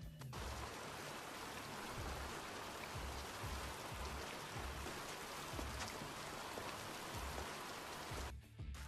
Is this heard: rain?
yes